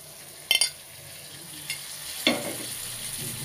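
Winter vegetables for a bhaji fry in a pan with a soft, even sizzle, interrupted by a few sharp spatula clicks and scrapes as they are stirred a couple of times.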